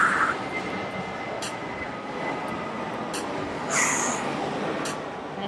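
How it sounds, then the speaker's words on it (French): Airplanes pass overhead outdoors, a broad, continuous roar of jet noise that swells and fades, with no voices over it. "Il y a vraiment beaucoup d'avions qui passent derrière."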